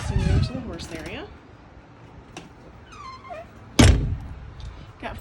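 The walk-through door between the dressing room and horse area of a 2017 Adam two-horse side-ramp gooseneck trailer shuts with a loud, sharp metallic thunk, preceded by faint creaks and rattles, and a voice speaks at the start.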